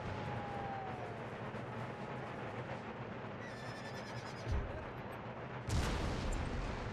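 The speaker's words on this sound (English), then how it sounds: "Oh, lovely artillery." Artillery fire in the Empire Total War game, heard as a dense, continuous battle rumble with booming impacts, a sharp blast near the middle and a louder one close to the end.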